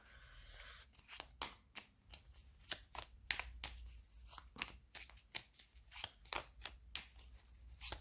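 A deck of Victorian oracle cards held in the hand is shuffled for a reading, making a steady series of soft, crisp riffling flicks, roughly two per second, close up and quiet.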